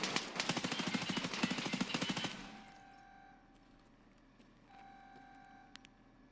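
Rapid automatic gunfire in a video game rattles out in a fast, even burst for about two seconds, then cuts off, leaving quiet game tones and a few faint clicks.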